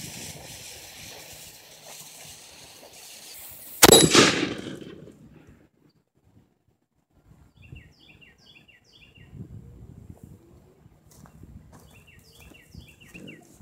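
A billiard mortar fires a cement-filled soda can: one sharp, loud metallic bang that quickly decays. Birds chirp faintly in the quiet outdoors afterward.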